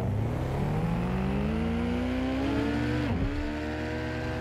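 A car in the video game Watch Dogs: Legion drives and revs, its engine tone climbing steadily and then dropping sharply as it shifts.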